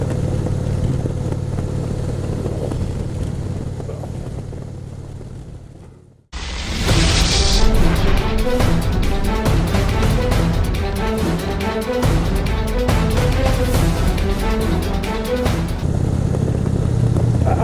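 A chopper motorcycle pulls away and rides on after a quieter idle, its engine suddenly becoming loud and close with a steady, throbbing drone.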